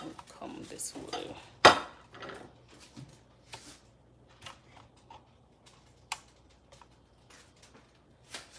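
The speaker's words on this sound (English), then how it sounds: "This is how I cut my onions." A knife chops onions on a cutting board for a Mexican stir-fry, giving a series of sharp, irregular taps and clicks with one louder knock early on, fairly close and alone between quieter pauses.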